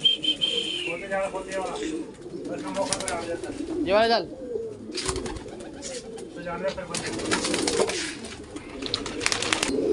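Pet pigeons in a rooftop loft coo and call in soft repeated phrases over general shuffling, with someone talking nearby throughout.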